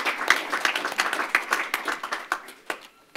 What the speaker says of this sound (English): I don't think you clapped loud enough